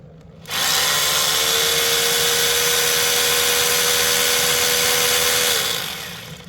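Electric drill running on a Bluetti Elite 200 V2 portable power station in a camper, a loud steady motor whine that starts abruptly, holds for about five seconds and then winds down.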